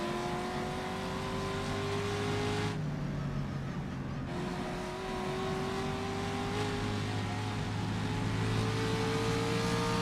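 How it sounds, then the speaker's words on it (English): Ferrari race car on the Isle of Man time trial course, its engine droning loudly with a steady high-pitched tone, briefly easing off under hard braking before climbing back up through the gears. "Hard on the brakes in the Ferrari."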